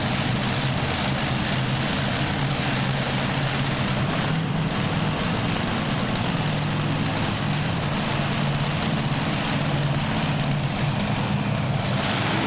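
Multi-engine pulling tractor at a 1996 indoor European tractor pulling event in IJsselhallen, Zwolle, roaring in a loud, continuous, dense engine drone that fills the hall, steady throughout with no talking.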